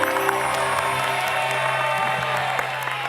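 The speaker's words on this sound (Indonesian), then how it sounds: "Tepuk tangan dong untuk posisi ini semuanya" A studio audience on an Indonesian TV show claps and cheers briefly, a steady burst of applause over a backdrop of sustained music.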